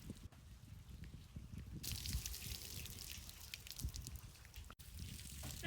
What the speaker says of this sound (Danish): når vi skal tømme kajakken, så tager vi det ude i spidsen, så vandet det løber ned bagved og ud af cockpittet